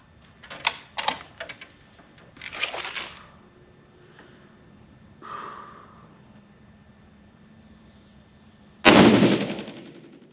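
A 6.5 PRC rifle loaded with IMR7828 powder fires one loud, sharp shot near the end, followed by a booming decay. Quieter mechanical clicks and handling noises come before it.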